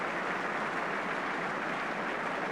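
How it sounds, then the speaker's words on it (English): A home football crowd at a Norwich City versus Liverpool match applauds an injured player being carried off: a continuous, even wash of distant clapping with no distinct individual claps. "Getting good applause from the local crowd."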